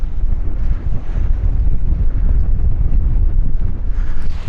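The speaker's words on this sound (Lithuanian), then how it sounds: "Vėjukas tik tai neblogas pučia." Strong wind buffets the microphone on a boat approaching a glacier near Svalbard, a constant low blustery rumble that fills the whole moment with no speech.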